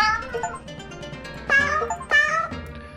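Game cats in 100 Asian Cats meow twice in clear, close bursts over continuous background music, with softer mews between the louder calls.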